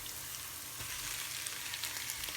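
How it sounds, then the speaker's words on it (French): Minced meat frying with cooked onions in a pan, a dense, even sizzle that hisses steadily throughout with no talk. "maintenant je vais rajouter ma viande hachée"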